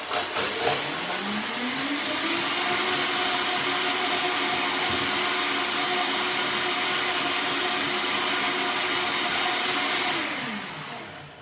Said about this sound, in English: I'm gonna put the ice in the blender.